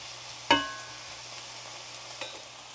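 Peppers and onions cook in a HexClad pan with a faint, steady sizzle, broken by one sharp utensil tap against the pan and a softer tap a moment later.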